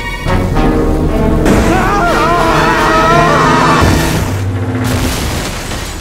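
Pressurized brine tanks explode in a cartoon with a loud, booming roar that swells and rumbles for several seconds, while a strained, wailing voice rises over the blast.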